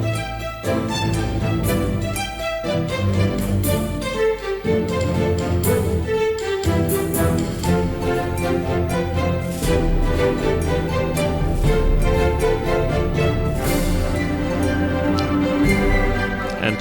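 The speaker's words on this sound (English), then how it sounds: "I'm going to show you a piece of music I have created using the plugins" Orchestral-style music piece built entirely from free VST plugin instruments, dense layered harmonies with steady sustained tones and plucked accents, continuous and full throughout without talk.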